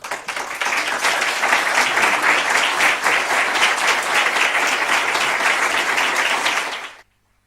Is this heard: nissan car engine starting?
no